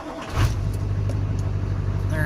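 A car engine cranks over, catches and settles at once into a steady, close, fairly loud idle, the start tied to testing an aftermarket Pac RP5-GM11 module.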